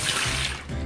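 Water pours from a cup into a mixing container during a cooking challenge, a brief close splashing rush with no talk.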